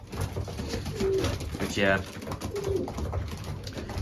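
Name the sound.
racing pigeons cooing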